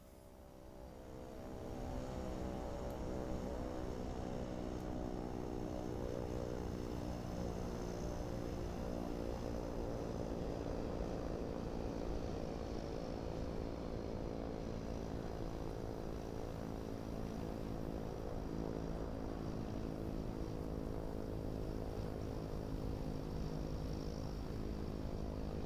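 Beechcraft C90 turboprop taxiing after landing in Microsoft Flight Simulator 2024, a steady droning propeller and turbine hum that swells in over the first two seconds and then holds loud and even, with no talk.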